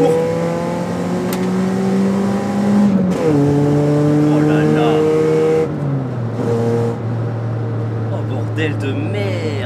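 Loud modified Renault Clio engine revving high, its roaring note climbing and then stepping down through several shifts in a continuous, close, aggressive run.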